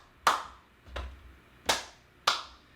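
Hands clapping in front of the body during a balance exercise class, four sharp separate claps in a loose rhythm, close and clear with no talk.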